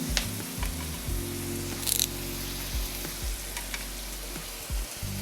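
Curry leaves hit hot oil with chopped ginger in a pan for an Onam vadakkoottucurry, giving a steady close sizzle and crackle with a few spattering pops and stirring scrapes.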